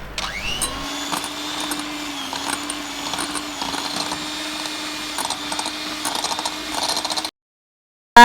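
Electric hand mixer beating half a stick of butter for an Oreo cake: a steady, close motor whine with some rattling that runs for about seven seconds and then cuts off.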